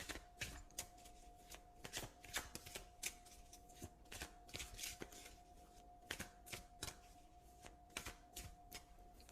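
A deck of oracle cards is shuffled in a quiet room, giving a steady run of soft riffling slaps and taps, close and faint, with no voices.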